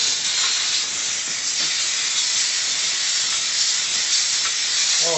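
A Dupray NEAT vapor steam cleaner blasts bathroom grout lines, giving a loud, steady, continuous hiss of steam with faint scrubbing underneath.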